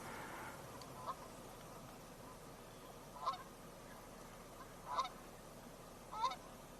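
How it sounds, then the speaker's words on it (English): Canada geese honk at a distance, a few short, faint calls spaced a second or two apart over steady outdoor background noise. "But it's more Canada geese."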